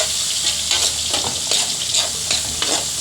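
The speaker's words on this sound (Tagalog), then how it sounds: "Isa-gisa lang muna tayo ng mga ingredients, mga guys." Garlic, onion and tomato sauté in a pan for ginisang ampalaya, a loud continuous sizzle with scraping stir strokes every half second or so, close with no talk.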